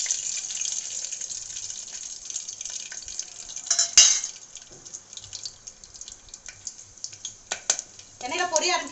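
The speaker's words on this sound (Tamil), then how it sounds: "எண்ணெயில பொரிய ஆரம்பிக்குது." Whole spices, cinnamon, cloves, cardamom and pepper, sizzle and crackle in hot oil in a pressure cooker for mutton biryani, a steady hiss with scattered pops and a louder burst midway, with a voice talking faintly.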